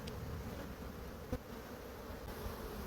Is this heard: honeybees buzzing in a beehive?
yes